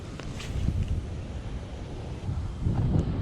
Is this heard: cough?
no